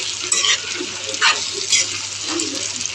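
Onion and potato frying with salt in a pan, a steady sizzle broken by several scraping stirs of a utensil against the pan, close and moderately loud.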